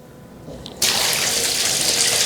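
Water suddenly gushes from the tap into a touchscreen bathtub in a luxury hotel room in Doha, a loud, steady rushing fill that starts abruptly and keeps pouring.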